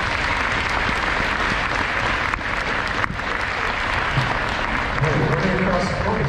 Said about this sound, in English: So let's give the girls a round of applause.